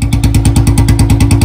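A Royal Enfield Bullet BS6 fitted with a C-bend exhaust pipe idles close by with a loud, steady, evenly spaced thump-thump beat and nothing else over it.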